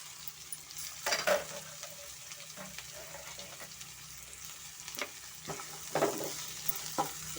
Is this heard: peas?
yes